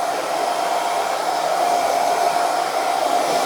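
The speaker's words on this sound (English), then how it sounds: "The hair dryer." A hair dryer blowing as it dries salt-sprayed hair, a loud steady close whoosh of air with a constant motor whine, unbroken for the whole stretch with no talk.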